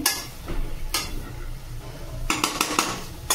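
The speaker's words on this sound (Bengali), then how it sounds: "ঢাকনাটা খুলে দেখব।" A metal pot lid is lifted off a pot of boiling fish on a gas stove, giving a few sharp close clinks and knocks of metal on metal with quieter cooking noise between them.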